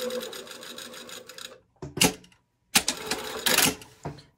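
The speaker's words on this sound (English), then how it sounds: "And I'm just going to sew again, right on the seam line." Two short bursts of a sewing machine stitching right along the seam line while assembling a garment body and collar, each run brief and close, separated by a quiet pause.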